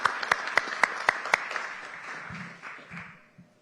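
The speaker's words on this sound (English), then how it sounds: "I would like to recognize Arden's parents who are here and give them a round of applause" A handful of sharp claps ring out in a quick series at a Senate Education Committee hearing, then fade into a brief murmur of low voices.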